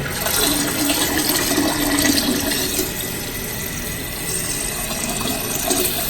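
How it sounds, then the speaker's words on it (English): Water rushing steadily into a toilet tank, a continuous close hiss and gurgle that eases slightly partway through. "That helps to rinse the bowl as the toilet is refilling."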